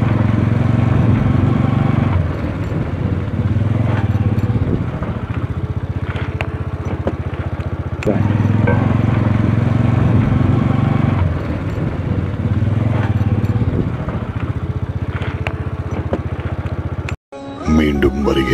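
A motorcycle engine idles near a temple, a loud, steady putter that swells and fades in waves, with someone talking over it and a sharp clatter near the end.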